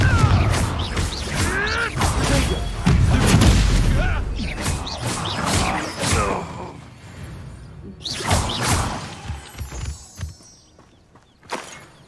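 Blasting spell explosions in Hogwarts Legacy, several loud bursting booms with whooshes and rumbling debris, separated by short pauses, with a spoken voice early on.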